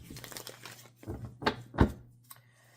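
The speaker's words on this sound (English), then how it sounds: "Shuffle these back in." Tarot cards being shuffled back into a deck, a few soft papery riffles and crisp slaps in short bursts, close and fairly quiet.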